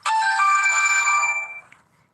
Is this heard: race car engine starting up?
no